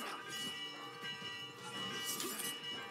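A bell rings repeatedly in a palace setting in Assassin's Creed Mirage, heard as a steady metallic ringing that carries through the game's ambient background, with no speech over it.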